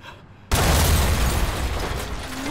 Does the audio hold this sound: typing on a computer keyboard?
no